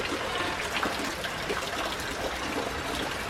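Water being drawn from a water source at a Samoan island resort, a steady soft splashing trickle that runs continuously, fairly faint and close, with no talking.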